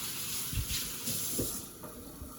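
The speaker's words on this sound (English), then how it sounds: "I'm just going to wash off my hands." Water runs from a kitchen tap as hands are washed under it, a steady broadband hiss with a few brief splashy bursts where the flow strikes the hands, fairly close and moderately quiet.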